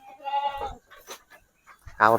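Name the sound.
goats bleating in a goat pen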